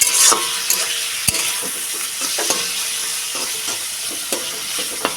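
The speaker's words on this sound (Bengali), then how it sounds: "আলু ভাজার মতো ভাজবো" Papaya pieces fry in a pan with cumin, salt and turmeric, cooked like potato fries. A constant hissing sizzle runs under repeated sharp scrapes and taps of a spatula stirring nearby.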